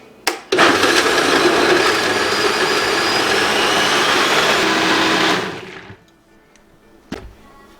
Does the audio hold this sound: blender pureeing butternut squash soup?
yes